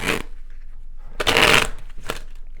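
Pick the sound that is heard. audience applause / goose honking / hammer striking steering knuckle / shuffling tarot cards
shuffling tarot cards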